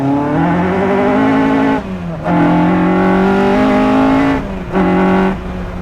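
A Caterham CSR sports car engine revs hard and climbs in pitch, briefly dropping at gear changes before roaring upward again, loud and close.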